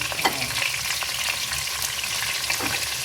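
Garlic, red onion, red chili and pepper seed sizzle in a new frying pan for chicken adobo, a constant close crackling fry with occasional stirring scrapes.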